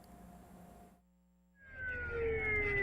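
A fire engine's siren wails on a city road in Chungbuk, South Korea. A low traffic rumble drops to near silence, then the siren sweeps in loud and close, its rising and falling tones layered over road noise.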